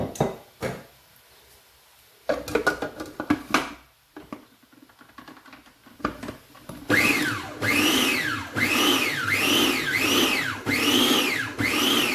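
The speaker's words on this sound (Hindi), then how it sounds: "थोड़ा सा इसको ग्राइंडर चला लेते हैं" An electric kitchen grinder blends tamarind and plum water for a sherbet. Handling clatter and a short burst come first, then the motor runs loud and close in repeated rising and falling whirs through the second half.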